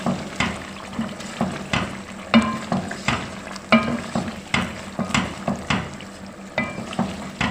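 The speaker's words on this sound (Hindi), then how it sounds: "इसमें डाल देते हैं अदरक लहसुन का पेस्ट। थोड़ा सा मिक्स कर लेते हैं।" Ginger garlic paste fries in a pan while a spoon stirs it in a regular rhythm, each scrape rising over a close, continuous sizzle.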